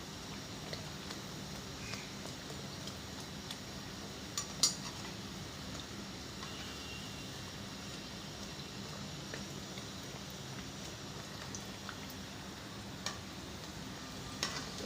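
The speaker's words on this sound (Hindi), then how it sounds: "हल्के हाथ से ऐसे ऐसे चम्मच के साथ इसके ऊपर ऑयल में डिप करते जाएंगे" A sweet puri fries in hot oil with a soft, even sizzle, and oil is ladled over it with light spoon clicks and a couple of sharper taps, heard close and without talking.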